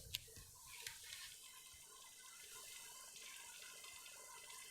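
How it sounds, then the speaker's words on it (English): Steady bubbling and gurgling of water from air bubbles rising in a fish tank, driven by an RS Electrical RS 390 dual-outlet aquarium air pump, heard close up and continuous with small splashy pops. "all the sound that is coming at the moment are coming from the bubbles that are being produced inside our tank"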